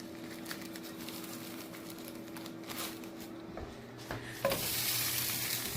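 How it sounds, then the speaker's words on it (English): Philly steak meat tossed into a hot pan and frying, a continuous sizzle with stirring scrapes that grows louder and brighter near the end, close by and without speech. "we're going to use the same pan, and we're going to, just throw the Philly steak right in there in it"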